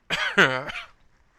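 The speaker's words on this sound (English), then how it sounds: "I have a very bad cough right now" A single harsh, close cough with a throaty, voiced rasp, broken into two or three quick bursts before fading.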